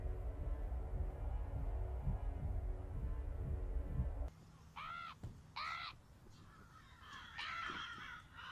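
At a ceremony at the foot of Mount Everest, a low throbbing hum gives way to a crow cawing several times in short, harsh bursts close by, with soft rustling between calls.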